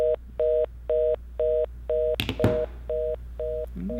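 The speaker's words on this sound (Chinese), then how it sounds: "又给老娘挂电话" Repeated beeping telephone tone after a call is hung up, eight evenly spaced electronic pulses, clear and close, with a brief rustle partway through and no speech.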